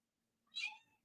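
A pet cat gives one short meow indoors, quiet and slightly distant, rising then fading in a near-silent room.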